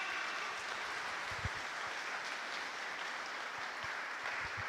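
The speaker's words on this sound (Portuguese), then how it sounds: "vamos aplaudir ao Senhor por isso" Church congregation applauding during a sermon, steady dense clapping throughout at moderate level with no talk.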